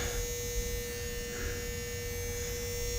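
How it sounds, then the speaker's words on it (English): A steady electrical hum from an RV's power inverter drones on unbroken, with a sharp tonal whine riding over a buzzy, low-level background. "Pardon the hum, but the inverter is on here."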